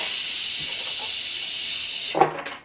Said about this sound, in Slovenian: Hitro vzame gasilni aparat.